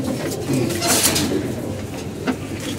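Pigeons in a home loft coo softly under steady low background noise, with a faint voice now and then.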